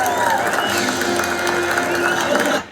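A protest crowd claps and cheers just as the national anthem ends, a dense, steady wash of applause that cuts off abruptly near the end.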